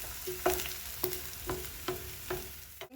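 Onions fry in a pot for a fish stew with a soft, even sizzle, and a spatula stirs them in about six regular strokes.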